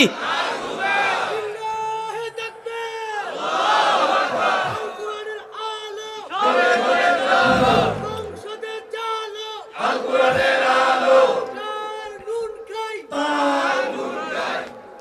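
A large crowd at a Bengali religious gathering chants slogans in unison, loud and close, in repeated call-and-response bursts separated by brief pauses.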